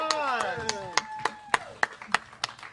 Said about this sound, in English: let's give our auctioneers a round of applause.